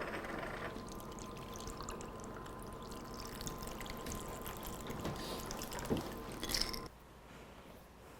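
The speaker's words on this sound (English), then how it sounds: "And we're just going to pour it over ice." A cranberry cocktail poured from a shaker over ice in a glass, a continuous close trickling stream for several seconds before it tapers off to near quiet.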